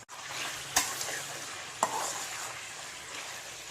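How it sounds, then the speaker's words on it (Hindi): About 750 g of mutton sizzles steadily in hot ghee and oil for a Shinwari karahi, with two sharp spoon knocks against the pan breaking through the constant frying hiss; no voices. "इसे हमें अच्छे से भूनना है"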